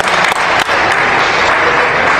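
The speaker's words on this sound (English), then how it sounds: "Everybody give these people a round of applause." An audience at a congressional campaign event gives veterans a round of applause: loud, continuous crowd clapping that fills the room throughout.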